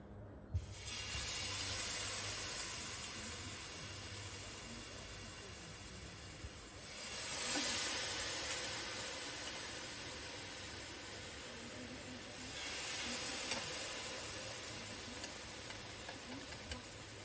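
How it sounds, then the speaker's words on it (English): Salmon fillets with teriyaki marinade cook over low heat on a CADAC gas grill outdoors, giving a steady broadband hiss and sizzle that swells in waves and settles back, with no voices. "The salmon is cooking over a nice low heat."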